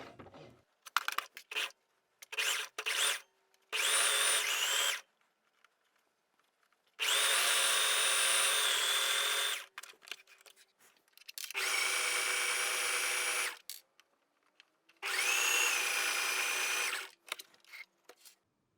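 A sewing machine stitches a seam on a pair of shorts in several bursts: a few short back-stitches first, then longer steady whirring runs separated by brief pauses.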